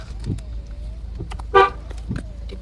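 One short car horn toot sounds at moderate distance partway through, over low outdoor background rumble and scattered household noises.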